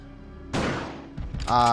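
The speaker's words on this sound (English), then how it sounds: "make sure you have your shotgun out, and then just walk over to where it is, aim up, and shoot it" A single shotgun blast fired in the video game Resident Evil 2, a loud sudden burst that decays over half a second, then a few faint knocks and a bright tonal game effect.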